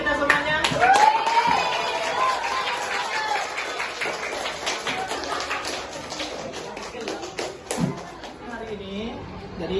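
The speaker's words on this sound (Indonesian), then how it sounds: "tepuk tangan untuk kita semuanya" A class of students claps together in a lesson on Islamic creed and morals, a brisk burst of applause and taps with voices talking over it throughout.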